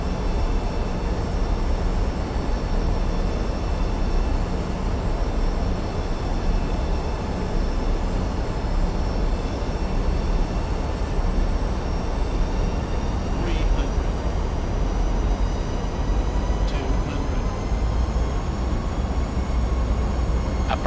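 A Boeing 737 in Flight Simulator X lands at Bergen, its steady broadband engine roar and airflow rumble holding constant and loud throughout, with faint cockpit tones rising briefly near the end and a voice speaking over it.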